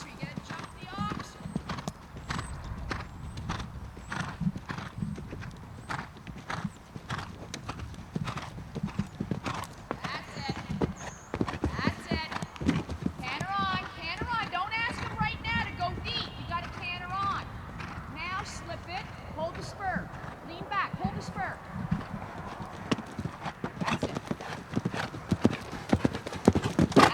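A horse canters over an arena course and jumps an oxer, with steady rhythmic hoofbeats close by throughout, occasional snorts, and a coach talking over the hooves.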